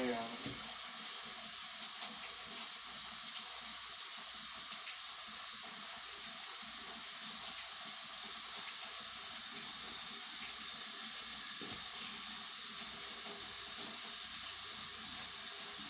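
Hands are scrubbed with a dish scrubber under running water, giving a steady, even hiss of flowing water that lasts throughout with no clear breaks.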